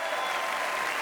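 A comedy show audience gives a short burst of dense, steady applause for two volunteers who have just left the stage, sounding like a full crowd clapping at once.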